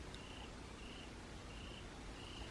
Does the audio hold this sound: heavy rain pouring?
no